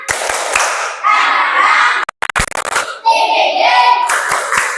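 Students in an Indonesian classroom perform the tepuk semangat chant, with bursts of patterned group clapping broken by a brief gap and with shouted chant voices, loud and close.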